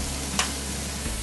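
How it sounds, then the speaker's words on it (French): Bacon lardons sautéing in a pan, a brief burst of steady, loud sizzling and frying with a quick stirring scrape partway through and no talking. "On fait sauter le lardon."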